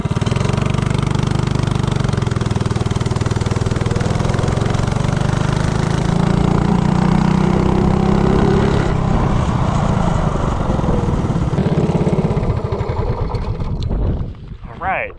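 A $49 mini bike engine roars at full throttle, its pitch climbing steadily as the bike accelerates from a standstill to about 30 mph, holding a loud buzzing drone before dropping off sharply near the end.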